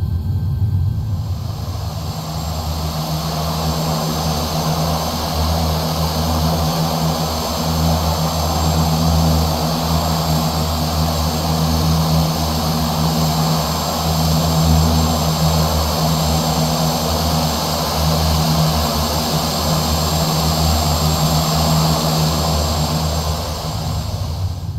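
A Shorts 330/360 twin turboprop taxis toward the runway holding point in a flight simulator game, a steady droning propeller and turbine whine with a high tonal hum, continuous and even throughout.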